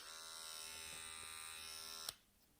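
A Remington PG 6030 electric shaver with its standard shaving head runs with a steady, close, high-pitched buzz. The buzz stops abruptly with a click near the end, and no one talks over it.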